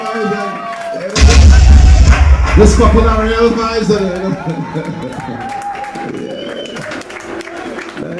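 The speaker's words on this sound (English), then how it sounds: "Let's clap them. Let's make some noise." Wedding guests clap and cheer for the couple's first dance, a loud burst of applause and whoops that swells, then tapers off under an announcer's voice over the microphone.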